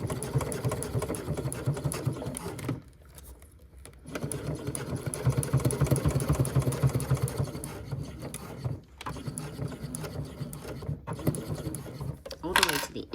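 Sewing machine stitching a clear vinyl phone pouch, a close, steady mechanical whirr that stops and restarts several times, with a person talking during the pauses.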